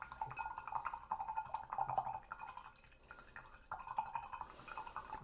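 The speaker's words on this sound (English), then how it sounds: "So take your brush and vigorously shake it in the water." Paintbrush being shaken and swished in a jar of water for watercolor painting, a close run of rapid watery sloshes and drips with a short pause midway.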